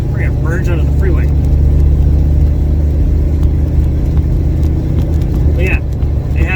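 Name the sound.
1967 Chevy Nova accelerating onto the freeway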